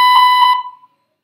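A single loud, steady electronic tone with harmonics from an automated phone payment system lasts about half a second, then fades quickly into silence.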